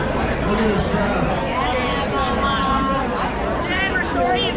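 A crowd gathered in a neighborhood for a celebration of life chatters steadily, many overlapping voices and laughter forming a close, continuous babble with no pause.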